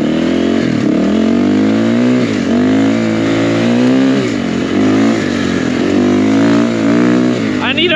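A KTM motorcycle engine revs hard while being ridden, loud and close, its pitch climbing and dropping through repeated throttle surges and gear changes, with a voice talking over it.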